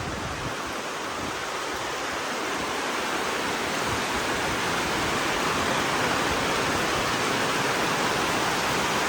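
Heavy rain pours steadily, a loud, dense, unbroken roar of falling water that fills the whole stretch without any voices.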